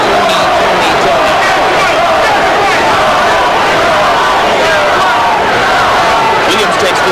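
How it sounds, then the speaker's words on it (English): Boxing crowd at an IBF super middleweight title fight between James Toney and Prince Charles Williams chanting Toney's name, a loud, dense arena roar that holds steady throughout with a rhythmic edge. "Now the crowd begins to chant Toney"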